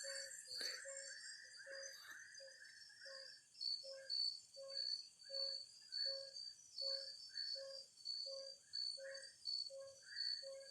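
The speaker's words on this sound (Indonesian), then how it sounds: "Makin kuat tuh bunyi. Ini katak nih ya." Frogs call at night in a forest: faint, evenly spaced pulsed croaks repeat at a steady rhythm over a thin, constant insect-like hum, distant and quiet.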